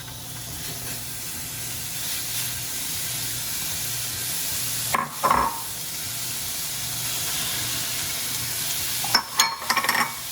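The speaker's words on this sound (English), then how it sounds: "first I'm going to put the bacon and the fat in so it will render the fat" Bacon and its fat rendering in a pan over medium-high heat give a steady, moderately loud sizzle and hiss, with two brief louder bursts of crackle partway through and no voices.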